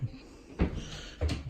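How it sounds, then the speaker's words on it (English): A wooden shed door is pushed shut nearby, giving two solid knocks about half a second apart, with quiet room tone between them and no talking. "that's a door shut"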